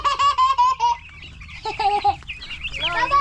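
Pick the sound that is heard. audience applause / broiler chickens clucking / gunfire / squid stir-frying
broiler chickens clucking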